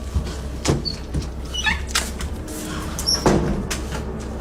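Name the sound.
mysterious knocking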